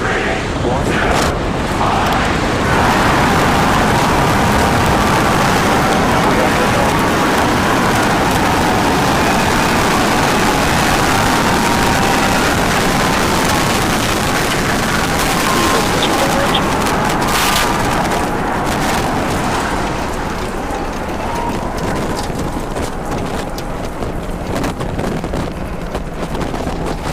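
A SpaceX Starship rocket lifts off on its third flight test with a sustained, loud, rumbling roar that buffets the microphone with wind-like noise for nearly half a minute, while people talk faintly underneath.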